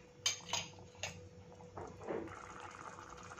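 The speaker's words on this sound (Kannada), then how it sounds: "ಈಗ ಇದಕ್ಕೆ ನೀರು ಹಾಕ್ಕೊಳ್ತಾ ಇದ್ದೀನಿ." A few sharp metal clinks of utensils come first, then a short, soft splash as water is poured into a cooking pot for spicy tomato bath. Everything is faint and close.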